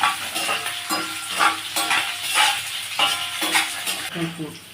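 Curry leaves crackle and sizzle in hot oil with green chilli and ginger while tempering pulihora, with steady frying hiss and intermittent stirring scrapes, near and moderately loud; a voice talks over it.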